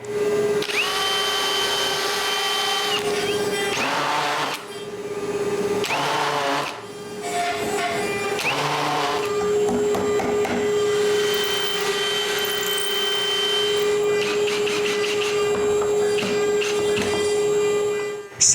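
A power drill drives screws into the hinges of a wooden stair gate, with several sustained whining bursts separated by short pauses, close and loud, and no talk over it.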